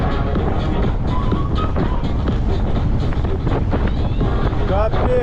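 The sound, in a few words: strong headwind blowing into microphone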